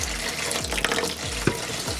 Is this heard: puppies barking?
no